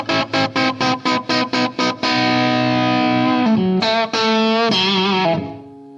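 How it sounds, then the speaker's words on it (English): Electric guitar through a Boss GT-8 multi-effects unit with a full-spectrum reverb, playing a quick run of eight staccato distorted chords, then sustained ringing chords and bends that wash into a long reverb tail, loud and alone. "So now I've got a kind of a full spectrum reverb."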